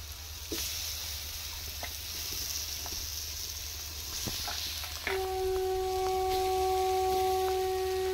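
Potatoes tipped into a pan of cooked-down spice masala for a rohu fish curry with ridge gourd, setting off a steady frying sizzle that grows louder and continues with a faint tonal whine, no talking.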